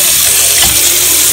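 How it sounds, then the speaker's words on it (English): Cold tap water runs steadily into a pan while boiling hot dogs, a loud continuous gushing splash that fills the short moment on its own. "leave the cold water in the pan"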